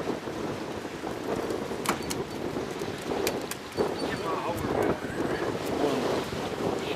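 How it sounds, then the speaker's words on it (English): Steady gusting wind at Lake Erie buffets the microphone throughout on a cold day, with a broad rushing roar and occasional sharper bursts, loud and continuous. "It's windy and cold"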